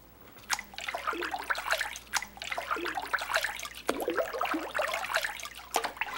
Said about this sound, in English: I've just put the pulp from the beater into this vat of water where we're going to be making our first sheet